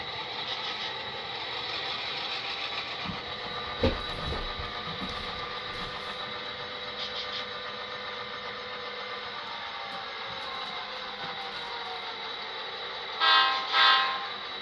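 An HO scale Santa Fe model train backs in with a faint, steady mechanical hum and rumble, a brief bump near the start and a short pair of horn toots near the end.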